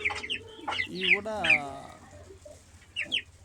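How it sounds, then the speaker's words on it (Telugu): Roosters and hens kept for sale cluck in short bursts close by, with a louder drawn-out call in the middle, while someone speaks briefly over them. "ఆ కోడి పుంజు పెట్టలే బాగుంటాయి చూడండి."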